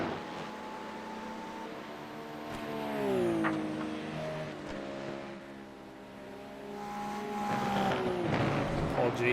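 Race car engines roar in a GT3 racing video game, revving and shifting pitch as cars accelerate and pass, with a continuous loud engine drone and a commentator talking over it.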